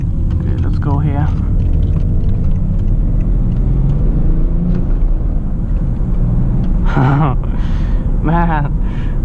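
A BMW E61 530d estate with a manual gearbox drives along with a steady low engine and road rumble throughout, and someone speaks over it in a few short bursts.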